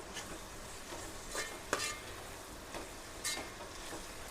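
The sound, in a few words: tomatoes stirred into frying onions for chicken biryani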